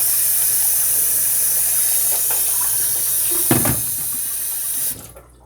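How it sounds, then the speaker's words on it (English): Cold tap water runs steadily into a sink with a bright hissing rush, a brief clatter near the end before the flow shuts off. "you're going to take cold tap water and exchange the water out."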